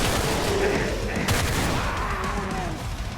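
Gunfire in a 16-bit style retro action game rattles on as a continuous loud clatter of overlapping shots. One sharp burst stands out, with busy game music and effects underneath.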